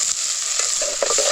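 Tadka tempering sizzling in a pan over a village wood-fired stove as onion softens, a bright continuous frying hiss with a few stirring scrapes, very brief and close.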